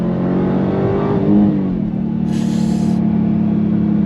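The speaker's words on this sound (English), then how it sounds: "It's like you got the supercharger whine, 717 horsepower." A 2023 Dodge Challenger Hellcat Jailbreak with a 717-horsepower supercharged engine accelerates on throttle, a loud close engine roar rising in pitch with a high supercharger whine layered on top and no talk.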